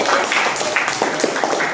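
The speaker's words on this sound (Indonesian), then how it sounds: "Berikan tepuk tangan untuk kelompok 5" A class gives group 5 a round of applause: dense, continuous clapping from many hands, loud and close, with no pause across the short burst.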